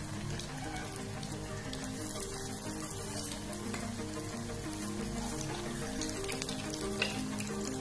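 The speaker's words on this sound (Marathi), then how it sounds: "एक 2 मिनिट आपल्याला असंच तळू द्यायचंय।" Sabudana vadas, crisp fasting fritters, fry in hot oil on medium heat, giving a steady, close, dense sizzle and crackle that carries evenly throughout without any talk.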